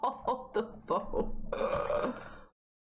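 A telephone rings in The Sims 4, giving a few short chirpy trills followed by a longer buzzing ring, all close and clear with no talk over it.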